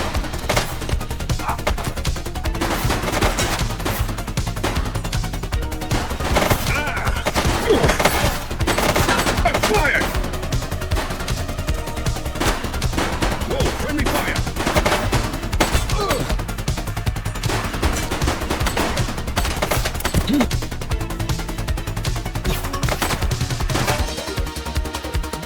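Gunfire during a police shootout in The Precinct video game, a sustained dense barrage of overlapping shots and rattling bursts, loud and continuous over a busy background.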